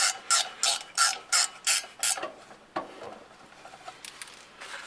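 Ratchet clicking while driving screws on a 1993 Mustang GT driveshaft, a fast run of close, loud pawl clicks in bursts, then quieter scattered clicks and handling noise.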